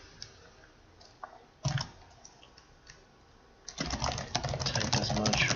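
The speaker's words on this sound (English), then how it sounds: "let's type something arbitrary" Keys clatter on a computer keyboard, starting with a few scattered taps and then settling into a quick, steady run of close, light clicks while someone types text into a WordPress page.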